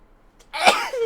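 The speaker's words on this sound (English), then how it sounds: "I've got to go sneeze" A single sharp sneeze bursts out close and loud after a brief quiet moment, with a soft trailing exhale and no talking over it.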